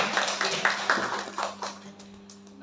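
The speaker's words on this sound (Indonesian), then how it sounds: "Tepuk tangan dulu buat Bu Winda" An audience at a parenting talk claps for Bu Winda, a brief, fairly faint round of applause that thins out after a couple of seconds.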